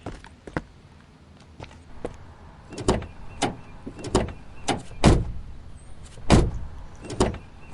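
People get into a car amid a series of sharp close thumps and clunks from doors shutting and seats settling, several louder bangs spread irregularly over several seconds, with no speech.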